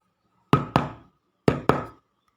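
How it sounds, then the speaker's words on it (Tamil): Two pairs of sharp knocks on a door, each pair quick, separated by a short pause, crisp and close in an otherwise quiet space. "சரி, கதவை தட்டுவோம்"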